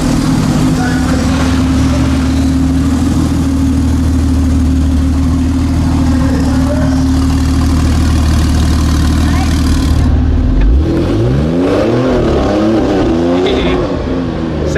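A W Motors Fenyr Supersport supercar with a Kline Innovation valvetronic exhaust idles loud and close in the Goodwood paddock lineup, with a deep steady rumble, then a rising rev as it pulls away. People speak over the engine.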